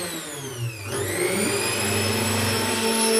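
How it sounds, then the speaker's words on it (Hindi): A failing kitchen mixer grinder strains under load while grinding chutney, its motor whining and dropping in pitch before surging back up into a steady, labored high-pitched hum that continues to the end. "मिक्सी ख़राब हो रही है, लोड नहीं उठा रही है"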